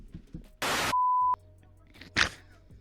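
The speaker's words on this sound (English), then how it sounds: "Sorry, I just snorted." A person lets out a sharp, loud snort, followed at once by a steady electronic beep tone and then a second, shorter noisy burst, all close to the microphone.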